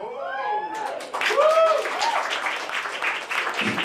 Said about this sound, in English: Only in LA would only 3 people clap for that